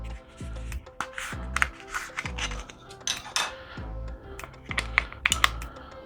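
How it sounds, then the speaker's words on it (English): Batteries being pressed into a Roku Express remote with a protective plastic tab removed: a series of close plastic clicks, taps and rubbing scrapes, irregular and fairly quiet, with no talking. "let's take these batteries and let's put them in the remote"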